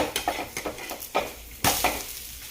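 Ghee sizzling in a pan while a ghavan rice crepe is cooked and flipped, with a steady hiss broken by repeated spatula scrapes and clatter, a louder burst near the end, close and without talk.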